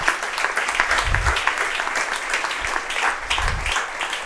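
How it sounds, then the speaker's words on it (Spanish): Applause from a church congregation at an evangelical discipleship class, a steady wash of many hands clapping that holds for several seconds with a couple of louder surges. "Fuerte ese aplauso para el Señor."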